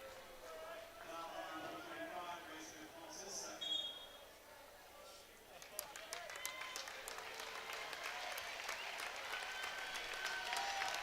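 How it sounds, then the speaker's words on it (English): Crowd at a boys high school basketball game applauds as a player checks out, steady clapping building and spreading through the gym with scattered sharper claps, moderately distant. "Gavin Hare checking out with a round of applause"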